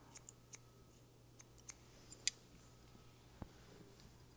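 Scissors snip through hair during a long-layered haircut, giving a series of quiet, close, crisp clicks spaced irregularly, with one sharper snip standing out; no one speaks.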